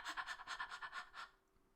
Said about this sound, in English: bit of panting.